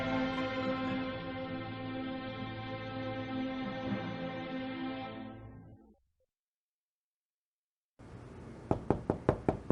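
After a long sustained musical drone fades to silence, a quick series of sharp knocks raps on a door, about half a dozen close, evenly spaced blows.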